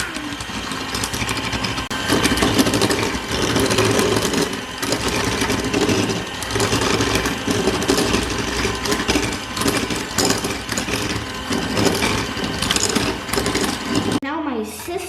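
An electric mixer beats homemade muffin batter after a generous amount of sugar goes in, a steady, close-up motor whir that runs continuously before cutting off near the end.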